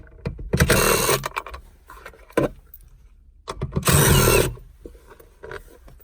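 A power drill fitted with a 10mm socket backs out bolts from a Hyundai Elantra's center console, giving two loud, close whirring bursts of about a second each, separated by short clicks and a quiet pause.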